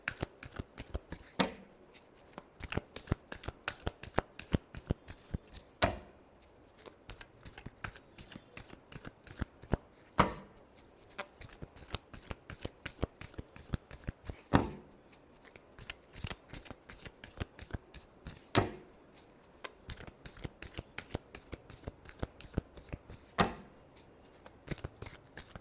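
Tarot cards are shuffled over and over for nearly half a minute, a dense patter of crisp, close riffles and taps with short pauses between bursts.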